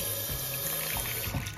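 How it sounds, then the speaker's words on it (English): Tap water runs steadily into a toddler's potty at home, a brief close splashing gush. "I'm gonna take this and add some water to it."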